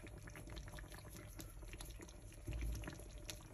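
Quinoa stew bubbles softly in a clay pot just after the heat is turned off, giving faint, continuous simmering pops and gurgles throughout.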